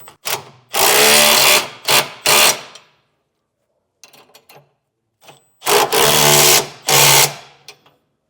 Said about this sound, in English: we'll tighten down our 4 bolts holding our center section to our cross brackets